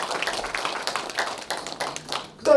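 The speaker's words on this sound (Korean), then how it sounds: "박수 한번 해주시죠." Scattered, fairly light clapping from an audience at a poetry literary festival, a loose patter of hands that carries on steadily before ending in a brief louder sound.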